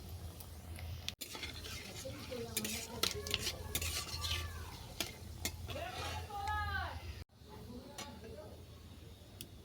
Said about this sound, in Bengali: বড়ি তেলের মধ্যে আমি ফোড়নগুলো ভেজে নেব।